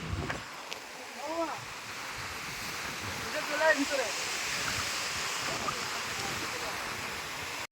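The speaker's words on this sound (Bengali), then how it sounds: "সমুদ্রের গর্জন তোমরা আওয়াজটা শুনতে পাচ্ছ" Sea waves roaring at a beach, a steady broad wash of surf with wind buffeting the microphone, while people talk briefly over it.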